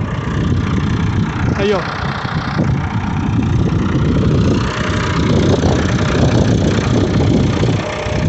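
A tractor engine runs loud and steady while raising a disc plow in a field, with wind buffeting the microphone and a brief spoken remark over it.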